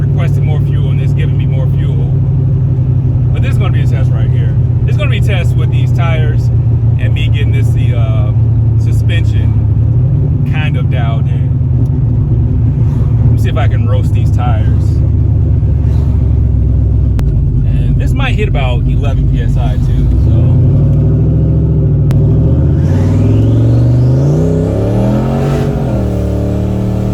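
A turbocharged SN95 Mustang engine pulls hard from a low, heavy drone, rising in pitch as it accelerates, loud and close inside the car, with someone talking over the rumble through much of it.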